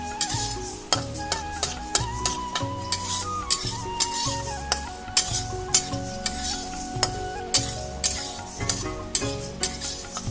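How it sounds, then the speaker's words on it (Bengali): Moong dal frying in a karahi for khichuri, a spatula stirring and scraping steadily with rhythmic clinks over a soft sizzle, close and loud with no talking. "এখানে ডালটা ভেজে নিচ্ছি"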